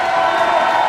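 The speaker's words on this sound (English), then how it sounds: "Crowd are going crazy here." A crowd at a men's 60x30 handball doubles final roars in a brief, loud, sustained swell of cheering, with no single voice standing out.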